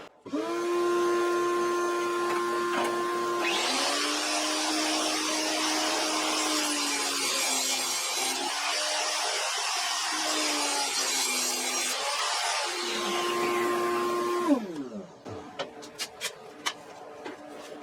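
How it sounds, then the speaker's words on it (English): A table saw spins up and cuts through HDPE plastic, a steady loud whine with a grinding rasp during the cut, then the blade winds down with a few clicks. "let's head over to the table saw"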